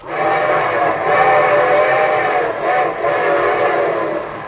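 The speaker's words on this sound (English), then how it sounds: "And here comes our star-studded show train." A steady rumbling train sound effect opening a 1949 radio broadcast, with a sustained whistle-like tone running throughout, loud and continuous.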